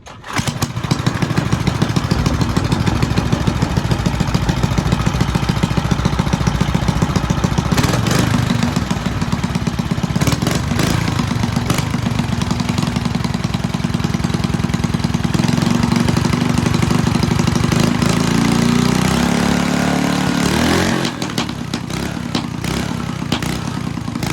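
A small Briggs engine with a loose exhaust on a vintage Fox Campus runs steadily and loudly throughout, a continuous rough mechanical drone with slight shifts in pitch near the end.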